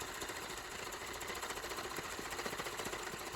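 A sewing machine stitches an EDC organizer in a mobile shop, a steady, dense mechanical whir with fine rapid needle pulses that holds at an even level for the whole stretch, close and with no voices.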